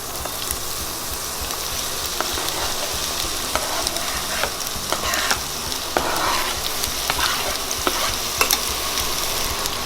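Onion and garlic frying in melted butter in a pan, a continuous close sizzle with frequent scraping taps as the mixture is stirred.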